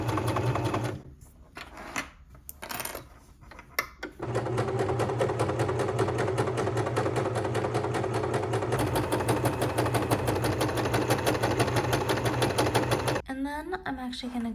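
A sewing machine stitches the hem of a thrifted slip dress in a quiet room, with a couple of short starts before a long, steady run that cuts off near the end.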